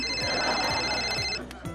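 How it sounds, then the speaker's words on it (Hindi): A phone rings at night, a repeating electronic ringtone with regular pulses, fairly close and clear, cutting off near the end. "अरे यार इस वक्त कौन फोन कर रहा है?"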